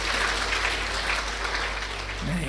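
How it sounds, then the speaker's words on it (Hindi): An audience at a Brahma Kumaris spiritual talk in Delhi claps together, a dense, even wash of hands at moderate distance, with a low hum underneath. "अभी ताली बजाओ अपने लिए।"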